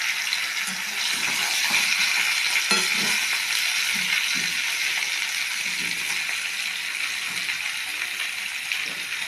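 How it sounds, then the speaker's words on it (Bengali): Potatoes and peas fry in hot oil with a constant crackling sizzle, broken by small irregular pops and scrapes, close and steady with no talking. "আলুটা ভাজা হোক, পরে আসছে।"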